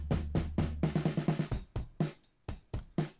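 Acoustic drum kit captured through room and overhead microphones, a loose pattern of kick and snare hits with crashing cymbals ringing in a live room, fairly loud and spacious, no voices.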